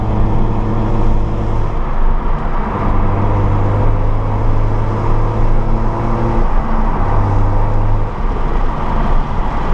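A catless BMW N55 with a manual gearbox and new downpipe drives along, its engine a steady, loud low drone with throttle swells and gear-change dips, over road and tyre noise throughout.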